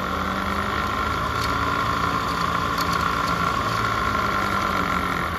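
A car engine running on a test with an Accel 59130 performance HEI distributor holds a steady, loud drone at about 4,000 RPM, with no talk over it.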